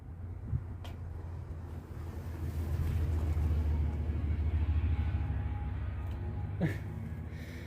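A car drives past close by with music playing inside, a low rumbling swell that builds, holds for a few seconds and slowly fades under light wind noise.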